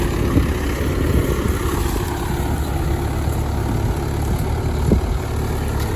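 A tractor engine runs steadily at close range after ploughing a field, a continuous low heavy rumble with a brief louder surge near the five-second mark.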